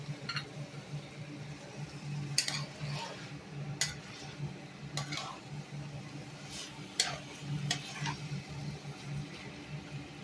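Soaked rice is stirred with spices in a pot, giving faint, scattered scraping and clinking strokes over a low steady hum, each spaced a second or more apart.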